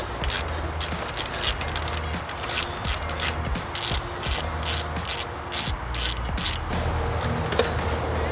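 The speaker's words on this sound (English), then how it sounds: "So now we just need to remove our 13mm bolts that go around there." Ratchet clicking steadily while removing long 13mm bolts from a Chrysler 300 water pump, rapid rhythmic pawl clicks in repeated bursts, close and clear with no talking.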